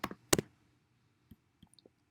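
A computer mouse clicks on a website: a couple of sharp paired clicks up front, then a few fainter, scattered taps in a quiet room.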